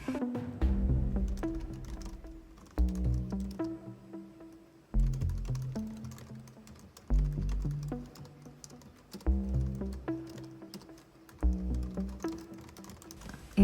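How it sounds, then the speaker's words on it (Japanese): Typing on a computer keyboard during automatic writing, in bursts of rapid clicking keystrokes separated by short pauses, close and clear, with soft background music and no talking. "とにかくインスピレーションが降りてくるままに、受け取るがままにタイピングしていきます"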